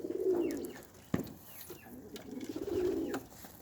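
Pigeons coo softly nearby in two rounded, repeated phrases, broken by a sharp brief knock in between and some faint chirps.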